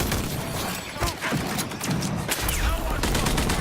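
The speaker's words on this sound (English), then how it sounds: "Assault rifle. Shoots like an assault rifle." An assault rifle fires in the video game Rage 2 in dense rapid bursts of loud gunfire, mixed with in-game mechanical clatter and impact noises, while a voice talks over it.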